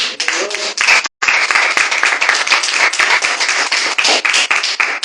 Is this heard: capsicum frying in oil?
no